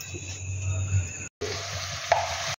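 Refined oil sizzling in a hot pan while cooking stuffed pointed gourd, a soft steady fry with a brief cut of silence and a small clatter near the end.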